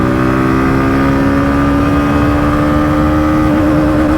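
A Hero Glamour X 125 motorcycle pulls hard in third gear, its steady engine drone climbing slowly in pitch, loud and close throughout with no voices.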